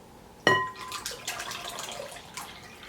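Water poured from a cup into a bowl of cake-mix batter with egg whites and oil, a sudden close splash followed by a few seconds of gurgling, trickling liquid that tails off.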